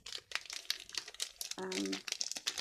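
A gusseted coffee bag being folded under, crinkling in short, close bursts of dry plastic rustle, with a person talking over it.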